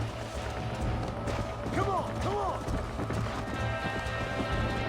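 A horse in Red Dead Redemption runs with rhythmic hoofbeats and gives two brief whinnying calls midway, heard under steady game ambience with someone talking over it.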